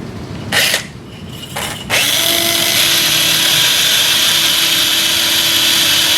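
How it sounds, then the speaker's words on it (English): Cannulated power drill driving a radial starter drill over a guide pin into a sawbones wrist model, two short whirring bursts followed by a sustained loud high-pitched spinning whine, close and continuous. "With the cannulated power drill, drive the radial starter drill over the guide pin"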